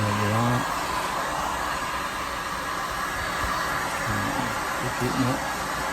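A heat gun blows steadily while softening and reshaping a plastic Alien Gear holster for a Sig Sauer pistol, a continuous broadband whoosh held close throughout, with a voice briefly speaking over it near the start and end.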